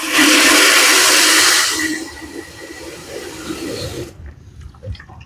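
Water poured steadily and loudly for a blackpowder rifle cleaning, a broad rushing splash for about two seconds that then thins to a quieter trickle and stops, leaving near silence.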